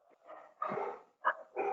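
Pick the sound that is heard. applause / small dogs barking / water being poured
small dogs barking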